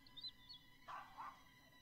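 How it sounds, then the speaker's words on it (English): Dog barking in a horror video game, a few faint yips and short barks spaced apart over a quiet, low ambient background. "Why won't Jake stop barking?"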